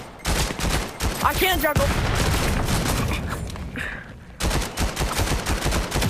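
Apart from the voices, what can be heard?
gunfire in Valorant video game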